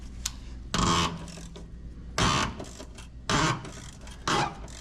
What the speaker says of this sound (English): we can now remove the cab mount bolts